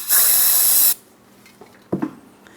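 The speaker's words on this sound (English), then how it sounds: "just a little bit of parts cleaner and a bore brush" Parts cleaner sprays onto a brake caliper bracket from a 2008-2016 Chrysler Town & Country rear brake job in one loud, steady hiss lasting about a second. It cuts off abruptly, leaving quiet workshop background and a couple of faint clicks.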